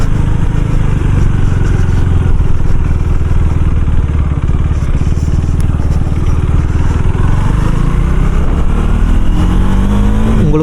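A KTM Duke 390 motorcycle engine with a clutch problem, loud, close and steady, droning and revving continuously throughout with no pauses.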